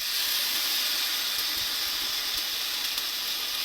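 Flank steak sizzling in a hot pan on a stove with the flame turned down, a steady, close, continuous hiss with faint crackles and no talking.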